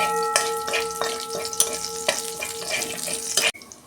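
Whole cumin seeds frying in hot oil in a wok, a loud crackling sizzle with frequent sharp pops, cutting off abruptly near the end.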